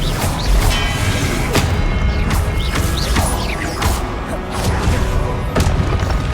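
Spells such as Expelliarmus cast in Hogwarts Legacy combat: rapid repeated magical bursts, whooshes and impact booms in a dense, loud, continuous barrage, with faint voice under the effects.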